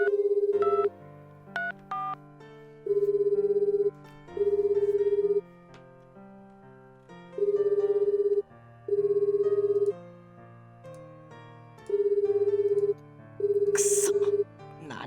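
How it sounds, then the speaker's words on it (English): A cell phone in a visual novel game rings with a repeating electronic melody, a bright sustained tone pulsing in regular bursts over a soft background music bed, with no one speaking. "the cell phone still ringing in my hand"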